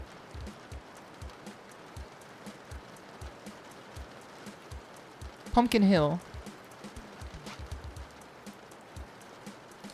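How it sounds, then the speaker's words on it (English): Rain ambience plays steadily at low level as a background sound on a livestream, a constant patter with faint regular taps, while a person talks briefly over it. "Let me turn down the rain."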